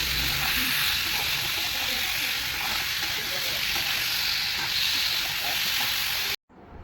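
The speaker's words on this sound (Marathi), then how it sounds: "कारल्याच्या फोडी त्यात टाकून दिलेत कढईमध्ये आणि आता याला मस्त परतून घेणार आहे" Bitter gourd pieces fry loudly in a wok with oil and salt, a continuous close sizzle with stirring, cutting off abruptly near the end.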